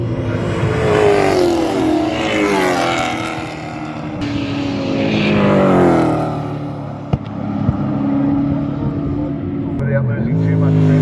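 A historic race car laps Queensland Raceway during a super sprint, its engine rising and falling in pitch as it accelerates and passes, loud and continuous. A commentator speaks over it throughout.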